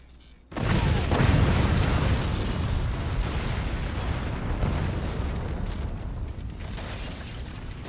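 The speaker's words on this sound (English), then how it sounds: "Cannon shot, great accuracy coming from York Stoom" Cannon shots in the strategy game Forts erupt in a loud boom after a brief quiet, then rumble on with overlapping blasts and a long, decaying roar.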